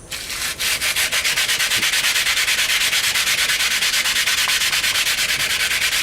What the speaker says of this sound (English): the way you sand things to a mirror finish by hand is start with a rough grit. This is a 60 grit,